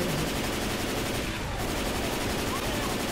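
Mounted heavy machine gun in the Left 4 Dead video game firing a dense, continuous loud burst, near and sustained throughout with no pause.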